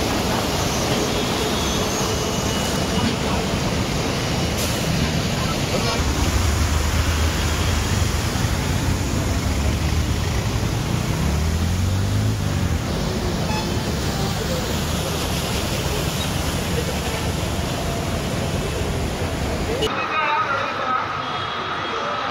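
Heavy rain pours down in Hyderabad, a dense, continuous broadband hiss that holds steady and loud throughout, with voices and some rumbling underneath.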